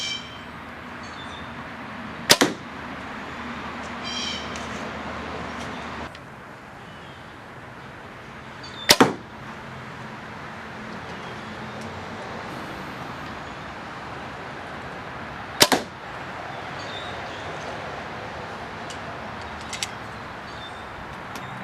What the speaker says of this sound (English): I'm shooting the bow literally about a foot away from the shotgun mic.